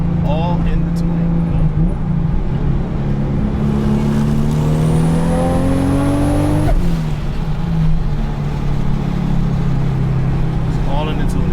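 A tuned 800 hp Toyota Supra engine runs steadily with a smooth, loud idle and a rising then falling rev, a close continuous drone with people talking over it.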